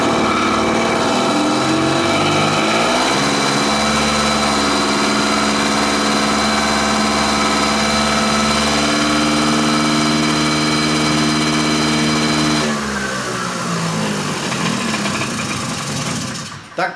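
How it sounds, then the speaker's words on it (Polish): A Kymco Vitality scooter engine runs at full throttle, a loud, steady, high-revving drone that holds for most of the stretch before easing slightly near the end, with no talk over it. "Tak pracuje ten silnik na pełnych obrotach, na manetce do otwartej do oporu."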